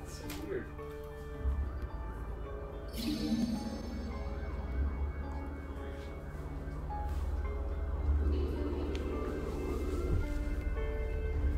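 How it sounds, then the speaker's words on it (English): Sirens wail in the underwater video game Song of the Deep, a rising and falling tone beneath dense game music and ambience, moderately loud and continuous. "those sirens are probably louder than the crackle"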